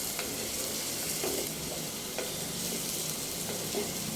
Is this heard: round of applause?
no